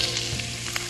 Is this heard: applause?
no